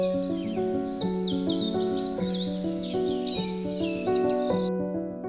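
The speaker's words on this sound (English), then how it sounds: "Hundreds of tropical bird species live and nest among the high branches, where wind and light are forever shifting." Tropical birds call and chirp in a busy, overlapping high-pitched chorus among the treetops of a Guyana forest, heard above a steady sustained musical backdrop throughout.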